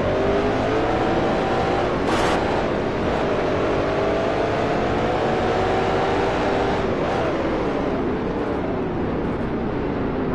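Racing car engine in the video game Grand Prix Legends, a continuous droning roar that rises and falls in pitch through gear shifts and acceleration, steady and fairly loud without speech.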